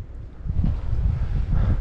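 Wind blowing steadily over packed, slippery snow along a mountain trail-running race course, a continuous low rushing roar close to the microphone with gusty swells.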